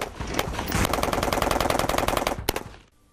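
An automatic rifle loaded with a high-capacity 60-round magazine of 5.56x45 mm ammunition fires one long rapid burst of close, loud, evenly spaced shots, which ends abruptly and leaves a short tail of echo.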